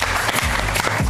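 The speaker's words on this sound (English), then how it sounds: "let's give a round of applause for our next 3 players, Audrey, KT, and Sam" An audience at a Saturday night improv comedy show applauds the next players, a brief, dense burst of clapping that fills the room.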